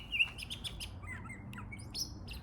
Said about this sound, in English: This bird brings up a really good point.